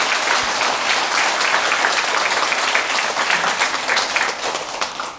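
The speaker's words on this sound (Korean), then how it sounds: "아름다운 음성 공양을 해주신 우리 합창단분들께 다시 한번 큰 박수 부탁드립니다." A congregation at a Buddhist lantern-lighting dharma service gives a choir a big round of applause, a loud, dense wash of many hands clapping continuously and evenly throughout, with no talk over it.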